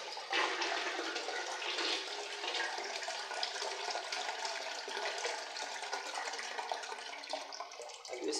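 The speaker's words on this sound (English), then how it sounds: "You see the way this toilet flush is turning all around the water closet, like it's cleaning." A toilet in a newly plumbed apartment in Ghana flushes with a steady, full rush of water swirling around the bowl, running continuously and loud for several seconds with no talk over it.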